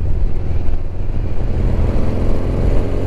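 A 1975 Yamaha XS650 motorcycle engine accelerating, a loud, close, low rumbling drone that holds steady and thick throughout without pause.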